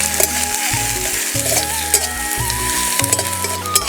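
Chopped onion frying in mustard oil with dried chili and black cumin, sizzling steadily up close while a utensil scrapes and stirs in irregular strokes through the pan, no voices.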